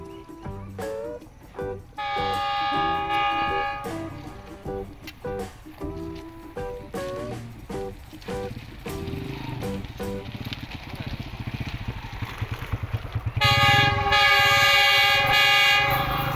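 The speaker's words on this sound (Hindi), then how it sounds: "आपने विसल की आवाज़ सुन ली होगी।" A GEU20 locomotive leading the Green Line Express sounds its horn in two loud sustained blasts, one early and one at the end, over steady rumbling and clattering of the passing train.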